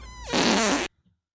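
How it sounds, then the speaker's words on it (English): A long, loud fart from a woman on a podcast, a raspy drawn-out blast of under a second that cuts off abruptly into silence. "fart is so long that I just hit ranch 2 times while it was going"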